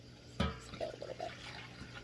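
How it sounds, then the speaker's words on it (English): Two cups of milk pour into a bowl as a short, quiet liquid trickle with a soft splash near the start, close by, with no talking. "we're going to add 2 cups of milk"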